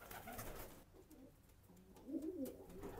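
Pigeons cooing in a crowded backyard coop, soft low throaty coos repeating close by over a steady rustling background, with no one talking.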